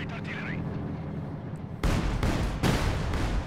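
Artillery bombardment in the video game Company of Heroes 2, a loud sudden blast of booming fire kicking in midway and repeating, after a quieter stretch of game ambience.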